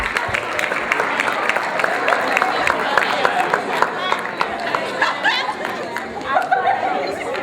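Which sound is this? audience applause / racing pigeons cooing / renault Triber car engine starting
audience applause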